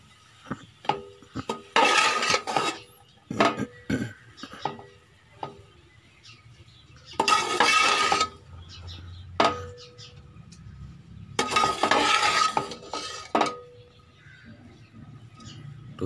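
Chicken roll filling mixed in a bowl, with bursts of scraping stirring and sharp clinks of a utensil against the bowl, separated by quiet pauses.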